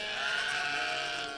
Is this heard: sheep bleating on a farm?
yes